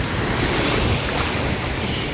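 Continuous crashing surf at the beach, a thick rushing wash of waves with wind rumbling across the microphone, loud and steady throughout, no speech.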